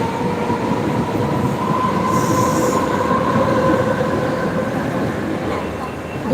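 A train moving at a suburban railway station, its steady loud rumble of wheels and cars running continuously, with a brief high squeal partway through and indistinct voices faintly in the background.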